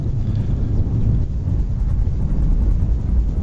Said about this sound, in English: Let's start off with these Lance helicopters